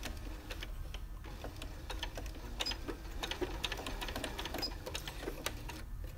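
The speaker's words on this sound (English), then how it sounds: "the only thing I'm gonna have to do is do a lock stitch right at that point" A sewing machine runs a lock stitch on a hammock ridgeline organizer, giving a quiet, fast, steady mechanical ticking and clatter for several seconds with no voice.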